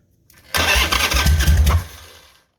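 A Harley motorcycle engine with a carburetor likely needing cleaning cranks briefly and catches, roaring loudly for about a second and a half before cutting off, close and alone.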